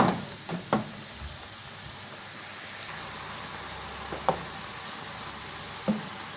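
Civcivayağı mushrooms fry in a pan on the stove with a soft, steady sizzle, broken by a few light clinks and stirring taps.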